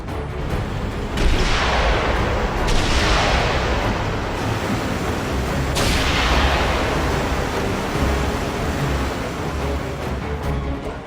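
A mounted turret in the game 007: Blood Stone firing at incoming missiles, heavy continuous rumbling blasts with a few sharp booming shots that trail off into a roaring wash, loud and with no voices.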